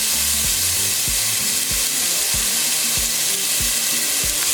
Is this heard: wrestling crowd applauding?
no